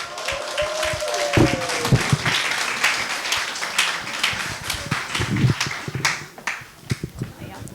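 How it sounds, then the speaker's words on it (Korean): Scattered applause at a religious gathering welcomes a speaker to the front, uneven claps rising and fading while people talk over it. "모두 큰 박수로 맞아주시길 바랍니다."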